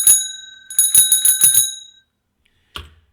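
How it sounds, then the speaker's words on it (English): A small bell rung by an Intelitek ScorBOT ER 4U robot arm gives one bright ding, then a rapid run of rings that fades into silence, and after that a single short clack. "let's do the bell."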